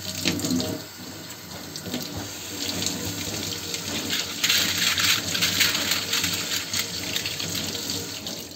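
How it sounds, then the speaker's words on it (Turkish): Whisking spoons rinsed under a running tap in a kitchen sink: a steady close hiss of flowing water with splashing and occasional light metallic clinks of the spoons, and no talk. "Daha sonra çarpma kaşıkları önce bir duruluyoruz."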